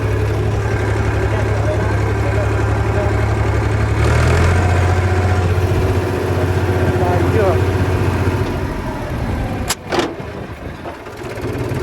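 A tractor engine idling nearby with a steady low rumble that shifts pitch slightly partway through, ending with a sharp knock as the sound drops. Voices are faintly heard.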